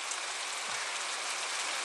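Steady rain falling on a courtyard in Corsica in summer, a dense even hiss of drops spattering hard surfaces, continuous and close with no voices.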